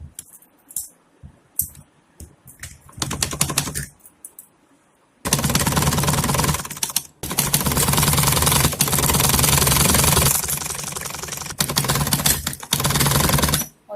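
Sewing machine stitching fabric for a Kanha Ji dhoti, several short bursts of rapid mechanical chatter early on, then long sustained runs of close, loud stitching broken by brief pauses.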